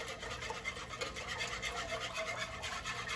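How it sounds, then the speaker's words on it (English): A whisk works quickly through a garlic and milk mixture seasoned with salt and pepper, making a fast rhythmic scratchy swishing against the bowl, close and steady throughout with no speech. "So we'll whisk that together."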